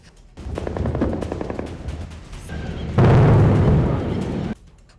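Heavy gunfire at the India-Pakistan border comes as rapid bursts of shots with a dense, loud stretch of sustained fire in the middle, falling away sharply near the end.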